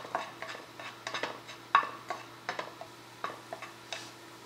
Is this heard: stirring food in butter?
yes